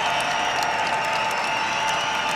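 A basketball arena crowd applauds and cheers steadily at a women's international game between Puerto Rico and Canada, a dense continuous wash of clapping with no break.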